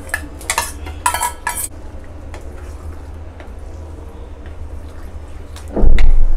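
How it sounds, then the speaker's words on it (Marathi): Paneer cubes go into a pan of mushroom masala with a few sharp clattering, clinking bursts of metal utensil against cookware near the start, then a quieter stretch of low kitchen hum and one louder knock at the end. "आता आपण ह्याच्यामध्ये पनीर सुद्धा घालून घेऊया."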